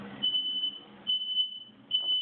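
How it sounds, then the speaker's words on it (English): A smoke alarm sounds a shrill, high-pitched tone in short repeated bursts over faint background noise as smoke from cooking pork steaks fills the room. "there goes the alarm again"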